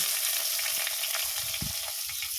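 Onion hits hot oil with a little cumin powder while cooking a chicken curry with vegetables, giving a steady, bright sizzle with soft low thumps of stirring underneath and no one talking.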